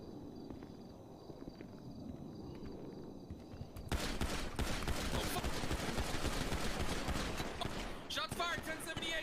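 Video game gunfire erupts after a quieter stretch: a dense, rapid burst of shots and rattling fire fills the second half, with voices talking throughout.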